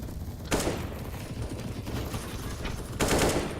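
Rapid gunfire during a Counter-Strike round, continuous overlapping shots with two sharper louder bursts, heard without talk over it.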